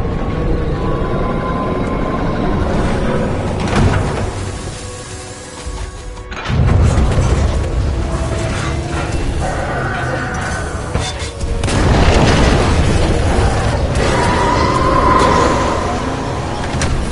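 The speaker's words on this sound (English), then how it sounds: "A series of explosions just weakened the manipulator arm." Booming blasts in a sci-fi video game roll through a continuous dense rumble of game audio, with heavy impacts around the middle and near the end, loud and close.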